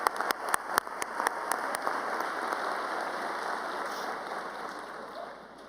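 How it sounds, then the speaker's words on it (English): A graduating audience claps at a college commencement ceremony. A few sharp individual claps open it, then it swells into a steady, moderately distant wash of applause that fades at the end. "Please, let's give them all a round of applause."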